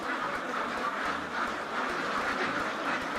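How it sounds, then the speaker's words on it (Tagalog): Ducks quacking on a farm, a steady chorus of scattered calls over a constant dense background noise, with a low mechanical rumble underneath throughout. "Mga itik dito."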